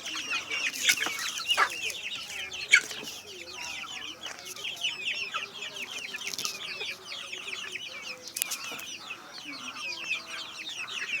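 Native chickens and their chicks in a small backyard flock, clucking and cheeping continuously, with many overlapping high calls and occasional sharper squawks, close and lively throughout.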